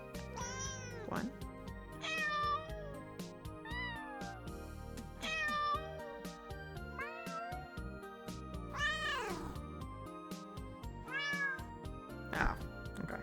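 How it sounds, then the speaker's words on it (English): A cat meows repeatedly at irregular intervals, about eight rising and falling calls over a steady musical background, fairly close and clear. "No, it's still meowing."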